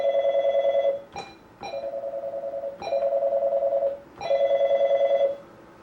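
Telephone ringing on a radio call-in line, four long electronic rings with short gaps between them, loud and close, with no voices.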